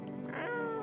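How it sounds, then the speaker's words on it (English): A cat meows in the video game No, I'm not a Human, a single short, harmonic meow heard up close and clear. "Meow. Pet cat."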